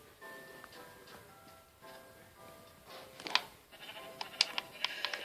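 Sheep bleat outdoors in short, wavering calls, some faint and distant and others nearer, spread over a few seconds with clicking noises in the background.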